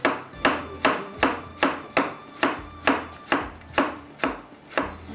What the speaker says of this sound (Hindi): यहाँ पर मैं कटिंग कर लेती हूँ अदरक को